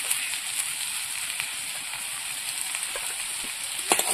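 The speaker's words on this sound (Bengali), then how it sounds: "এবার ওলটা ভালো করে কষিয়ে নেব।" Boiled elephant foot yam sautéing in a pan with salt and turmeric for a Bengali fish curry, giving a steady close sizzle and frying hiss throughout, with a few soft stirring clinks near the end.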